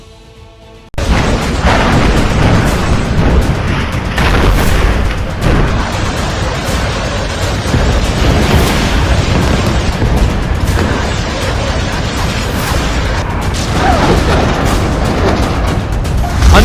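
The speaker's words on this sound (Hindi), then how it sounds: "धमाके पर धमाके हो रहे हैं।" A dense, continuous roar of bomb explosions and heavy booms in wartime Gaza, loud and sustained, with bursts rising throughout after a brief quiet start.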